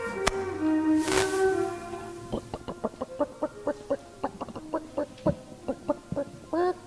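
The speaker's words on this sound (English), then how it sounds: "All right, Davy, that's enough for the chickens" Chickens cluck in a farmyard scene of a radio drama, a rapid series of sharp, fairly close clucks and squawks in an uneven rhythm following a longer call at the start.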